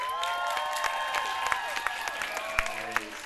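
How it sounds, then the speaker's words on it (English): Applause from a convention audience after a fursuit dance competition performance, a steady wash of clapping with scattered cheers and whistles over a lively room, voices audible. "Warm round of applause!"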